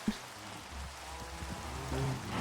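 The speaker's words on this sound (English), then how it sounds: "And it's raining." Steady rain falls in the Minecraft video game, a soft continuous patter under faint low game tones and a few brief clicks, with no talking.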